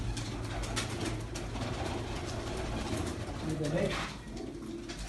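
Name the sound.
pigeon cooing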